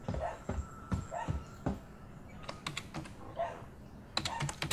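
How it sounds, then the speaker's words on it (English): Keys clatter on a computer keyboard in the video game Alien: Isolation, irregular bursts of clicky typing close up with short pauses between runs, alone without talk. "What's wrong with that keyboard? It's so weird."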